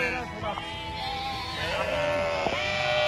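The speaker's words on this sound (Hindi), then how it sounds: "जो बकरी है वो भी यहाँ पे आ चुकी है" Goats and sheep at a shepherds' mountain camp, giving several wavering bleats close by in an uneven sequence, mixed with voices talking in the background.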